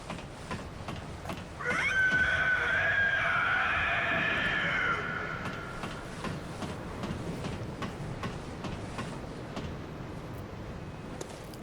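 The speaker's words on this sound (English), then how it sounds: "The cleric beast is about to scream" The Cleric Beast in Bloodborne lets out a loud, shrill, wavering scream lasting a few seconds, rising and warbling over rumbling background noise before fading back into the din.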